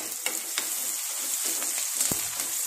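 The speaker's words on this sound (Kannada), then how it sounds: "ಈರುಳ್ಳಿ ಹಾಕಿದ್ಮೇಲೆ ಸ್ವಲ್ಪ ಚೆನ್ನಾಗಿ ಫ್ರೈ ಮಾಡಿ" Onions frying in a pan with ginger and garlic, giving a steady loud sizzle with a few sharp stirring scrapes, no voices.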